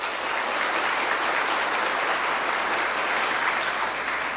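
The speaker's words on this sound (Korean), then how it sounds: "수고해 주신 조이 오브 스트링스에게 격려의 박수 좀 부탁드리겠습니다" Sustained applause from an audience at an awards ceremony, honoring a string ensemble; dense, even clapping fills the room at steady loudness throughout with no voices over it.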